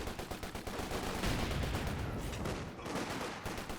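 Light machine gun fire in Company of Heroes 2, rapid rhythmic bursts of shots rattling continuously with a heavier thud in the middle, loud and sustained, no speech.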